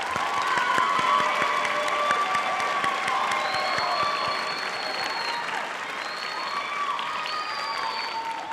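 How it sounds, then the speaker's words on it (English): Sustained audience applause at a university social welfare commencement ceremony, steady and fairly loud throughout, with a few scattered voices and faint cheers mixed in. "Let's give a round of applause to this wonderful faculty."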